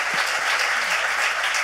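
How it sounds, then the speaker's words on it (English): A church congregation applauds for its pastor, an even, moderately loud wash of clapping from the gathered crowd with a faint voice underneath. "Can we give Pastor Mike a round of applause, please?"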